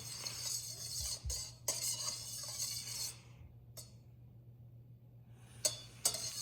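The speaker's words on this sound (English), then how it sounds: "Then we stir it up with the spoon." A spoon stirs a Halloween cauldron bath bomb mixture in a container, producing soft scraping and swishing with occasional light clinks, quiet and close over a steady low hum, with no voices.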